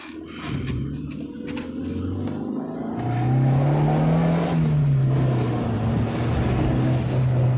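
An AWD turbocharged Honda Civic EG hatchback with a K24 engine drives along, its engine droning loudly and rising in pitch as it accelerates, then holding a strained, steady whir.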